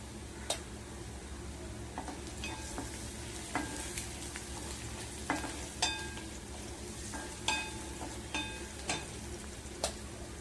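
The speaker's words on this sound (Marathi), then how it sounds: "आता आपला कांदा परतत आलेला आहे. ते मी टाकते अर्धा चमचा जिरं." Onion sautéing in a pan with cumin added, a soft steady sizzle broken by repeated sharp scrapes and taps of a spatula stirring at irregular intervals.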